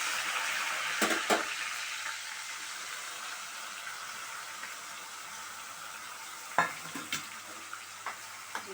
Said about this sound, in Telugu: ఇది బాగా ఏగాలి కుర్మ